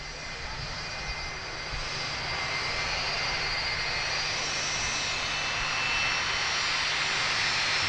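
Boeing 757-200 jet airliner at Manchester Airport, its engines a steady, rising roar heard from a distance with a broad whine, growing slightly louder as it passes.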